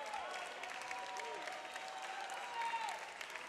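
Spectators at a taekwondo Grand Prix semifinal in Moscow clap and cheer in a steady, distant roar of applause with a few whistles, heard alone and fairly faint.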